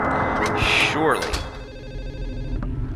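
A very loud telephone rings in the video game Silent Hill 4: The Room, a steady electronic bell trill that fills the first part and fades, with a person talking over it.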